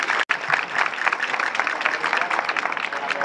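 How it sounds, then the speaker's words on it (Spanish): Crowd applause for a verdiales folk band in Vélez-Málaga, dense, sustained clapping from a large gathering at fairly close range, briefly cut by a short dropout near the start. "Un fuerte aplauso a nuestra banda de verdiales"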